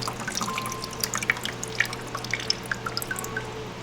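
Water from a coral dip setup drips steadily into a container, a close series of small, crisp plinks at an irregular rhythm over a faint constant hum, with no talking.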